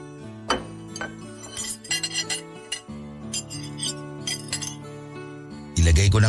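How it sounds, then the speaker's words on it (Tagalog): Plates and spoons clink as they are gathered from a table and set into a kitchen sink, several bright, scattered clinks over background music, ending in a louder clatter. "Ilagay ko na nga muna itong mga plato at kutsara sa lababo para hindi na makalat dito sa lamesa."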